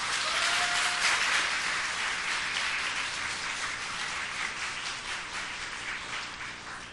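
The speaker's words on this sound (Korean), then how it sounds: "존경과 감사의 마음으로 박수로 환영합니다." A church congregation at an autumn revival meeting claps in welcome for a visiting pastor, a dense, steady patter of many hands that fades gradually, with no voices over it.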